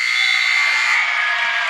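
A loud end-of-period buzzer at a girls' regional high school basketball game blares continuously, harsh and dominant, fading slightly toward the end.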